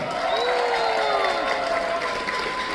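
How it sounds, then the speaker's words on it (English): Audience applause in the main dining room aboard the Oasis of the Seas cruise ship, a steady broadband clapping wash lasting throughout, with faint tonal whistles or voices drifting over it. "Chef Deepu and Chef Clive would like to know by the measure of your round of applause, how much have you enjoyed the main dining room food so far"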